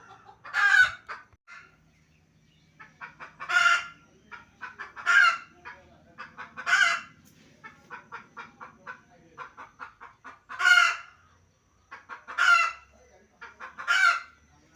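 Chickens cluck and roosters crow repeatedly in a flock of about a hundred birds, with loud crows recurring every couple of seconds over steady nearby clucking and no talk.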